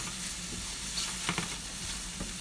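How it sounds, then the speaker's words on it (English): Mushrooms sizzle quietly in a pan while being stirred, soft frying hiss with a few scraping stir sounds. "Give the mushrooms a little stir."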